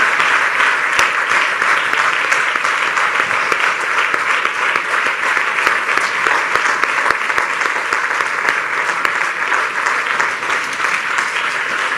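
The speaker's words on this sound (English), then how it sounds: "Let's give a mighty hand clap to the Father in heaven." A church congregation claps hands together in a steady, dense, loud round of applause that continues without break, with no talking over it.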